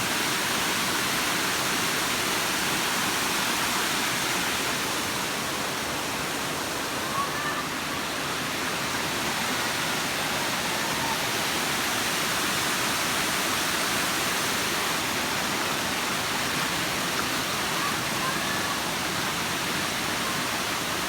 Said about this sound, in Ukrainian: Водоспад Журин.